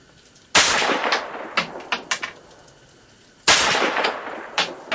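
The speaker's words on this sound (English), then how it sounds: "Fired those 10 rounds." A 300 AAC Blackout rifle at a shooting range: two loud, sharp shots spaced a few seconds apart, each followed by echoing tails and clicks of handling, with no talking.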